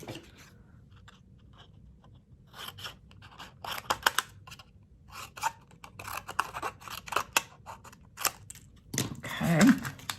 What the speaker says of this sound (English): I'm just going to roughly figure out how big a piece of cardstock we're going to need and cut around